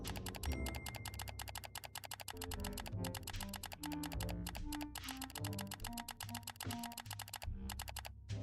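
Mouse or keyboard clicks on a computer come in a rapid, steady run of close taps, with busy game music playing underneath throughout.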